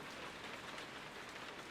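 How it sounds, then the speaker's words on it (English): Steady rain falls in a children's cartoon about a tractor, a continuous soft hiss of drops on surfaces that stays even and unbroken throughout, with no voices. "Oh no, it's starting to rain again."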